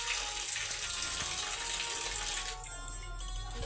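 A kitchen tap runs steadily as coriander and chickpeas are rinsed, giving a close, continuous gushing splash that drops in pitch and level partway through, with no talking.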